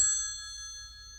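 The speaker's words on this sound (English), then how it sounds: "What's that ringing? Oh, it's only my private telephone." A private telephone ringing in a 1957 film scene, a single sustained bell-like ring with clear tonal overtones that slowly fades, heard alone without talk.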